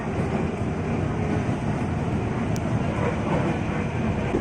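A 12-car KRL commuter electric train at Rajawali station gives a steady, loud rumble of rolling wheels and motor hum, continuous and close, with a brief high squeal partway through.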